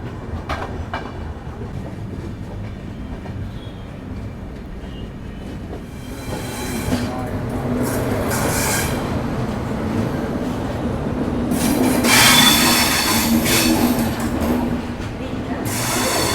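The Uday AC double decker express departs KSR Bengaluru City railway station, a continuous rumble of rolling train with rising clatter and occasional hissing bursts, steady and fairly close.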